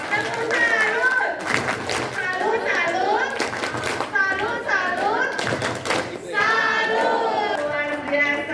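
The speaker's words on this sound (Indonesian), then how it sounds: "kita kasih tepuk tangan dong ya. Tepuk salut." A group at a school literacy and numeracy workshop performs a patterned salute clap, with bursts of rhythmic hand claps and thumps mixed with lively voices chanting and talking throughout.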